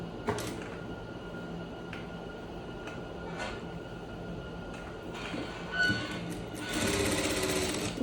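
A sewing machine backstitches along the seam of a striped shirt, running in short bursts and stops before a longer steady run near the end, close and moderately loud.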